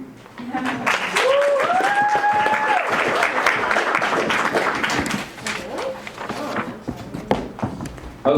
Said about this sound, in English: Another big round of applause for the camper.